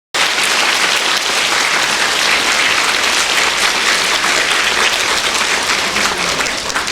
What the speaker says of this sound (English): Let us once again give a warm round of applause to thank the teacher for sharing their teachings with everyone.